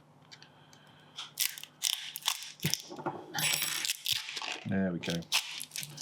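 An Oppo A17 phone battery being pried out of its adhesive: a run of close, crackling, crunchy snaps and scraping clicks, irregular and growing busier, with a brief spoken remark near the end.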